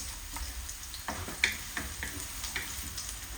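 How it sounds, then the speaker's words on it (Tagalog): Chopped onions dropped into a hot frying pan sizzle steadily, with faint crackles and a few sharper ticks and spatters, close by and fairly quiet. "mainit na ang ating kawali. Lagyan na natin ang sibuyas."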